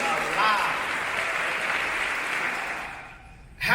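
A keynote conference audience cheers and applauds, a broad dense wash of clapping and crowd noise that holds steady and then fades near the end.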